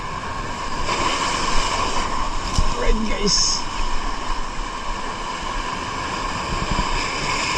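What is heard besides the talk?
ocean waves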